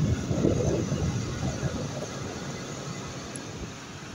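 A homemade cardboard rechargeable revolving fan runs with a steady airy whir and rushing hum. It is fairly close and continuous, easing slightly as it goes, with no talking.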